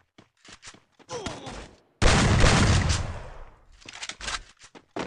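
Free Fire gunfire on PC: scattered short shot bursts, then a loud sustained spray of automatic fire, followed by more quick shots, all close and punchy.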